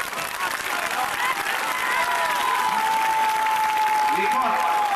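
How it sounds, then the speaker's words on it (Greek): Warm applause from an outdoor crowd at a 1998 political rally on the Pedion tou Areos in Athens, steady dense clapping throughout with a sustained tone and murmuring voices mixed in. "Θερμό χειροκρότημα."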